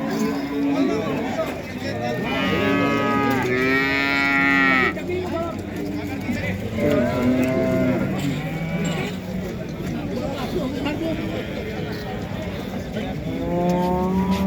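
Several calves and cattle moo repeatedly, some long and drawn out, amid a busy crowd hum and nearby chatter at the calf ground of the Jagraon cattle market.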